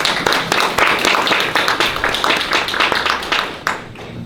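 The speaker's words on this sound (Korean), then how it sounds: "큰 박수 부탁드립니다" Dense applause fills a hall at a candidates' debate for the Jeollanam-do Social Workers Association president election, steady and loud for about four seconds before easing slightly near the end, with no talking over it.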